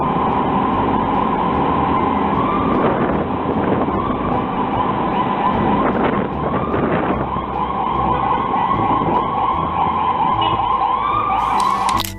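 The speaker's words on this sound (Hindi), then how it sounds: "सड़कों पर आम गाड़ियों के पीछे ही एम्बुलेंस खड़ी है और कोई उसे रास्ता नहीं दे पा रहा" An ambulance siren wails continuously and loudly while the vehicle is stuck behind ordinary cars in traffic, its rising and falling tone holding steady over road noise with no speech.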